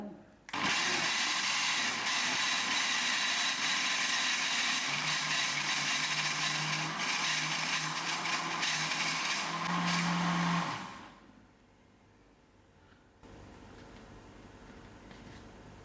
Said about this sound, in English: Now I'm going to blend it till smooth.